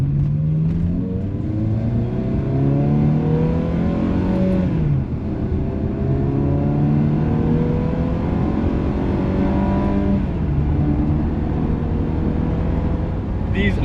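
Exhaust and engine note of a Ferrari 360 while driving, picked up from close by, steady loud droning with rising and falling pitch as it accelerates and shifts, continuous throughout, with some faint talk inside the car.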